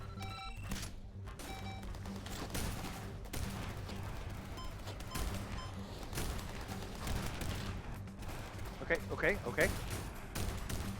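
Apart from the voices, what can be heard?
shotgun firing in a video game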